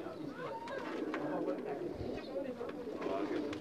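Lal Pari breed pigeons coo softly in a loft. The soft, repeated coos sit under steady talk from people nearby.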